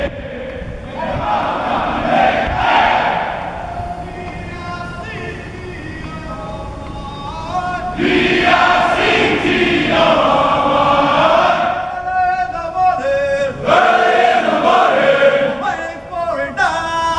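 A formation of soldiers at an Army ordnance battalion sounds off a cadence in loud unison, rough massed voices in repeated call-and-response bursts that swell and pause throughout.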